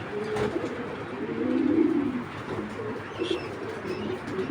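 Racing pigeons coo nearby in low, soft, throaty bursts that repeat unevenly over a quiet background, with no talking.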